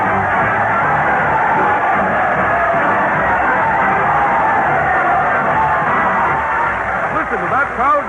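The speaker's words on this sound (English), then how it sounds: "Listen to that crowd cheer" Crowd cheering and whooping in an old-time radio broadcast of Town Hall Tonight, a dense, steady roar of many voices filling the whole stretch at high volume, with a few louder yells rising near the end.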